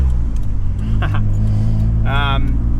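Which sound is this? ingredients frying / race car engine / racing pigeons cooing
race car engine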